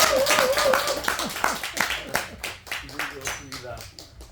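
Scattered audience clapping during a round-table talk on peace and reunification strategy. Individual claps pop out under and after a man's spoken remark, growing sparser toward the end.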